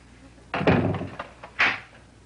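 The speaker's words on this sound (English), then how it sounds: "Why did you lock the door?" A door swings shut with a solid thunk, followed a moment later by a sharper clack like a latch or lock, close and loud with no talk.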